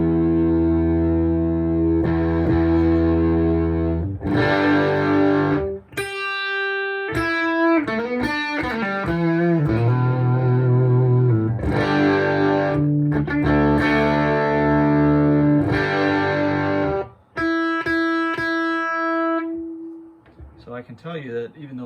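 Fender Princeton Reverb amp cranked to volume 8 with fizzy overdrive, an electric guitar played through it in distorted chords and bends, loud and sustained with short pauses between phrases.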